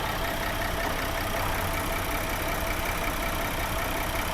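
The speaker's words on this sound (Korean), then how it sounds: "엔진 소리 일정합니다" A Porsche Cayenne 958 3.6 engine idles with a steady, even hum throughout, a constant low drone with no changes in pitch or loudness.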